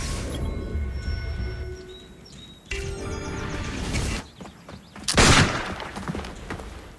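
Gunfire from a shooter in the Assassin's Creed Brotherhood video game: loud cracking shots and a sharp blast amid a busy, noisy game soundscape, no speech.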